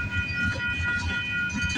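CP passenger train 113 from Montreal to Vancouver rolls past a trackside spot in Agincourt, Toronto, with a steady loud rumble of wheels and cars and a sustained high tone throughout, with no voices.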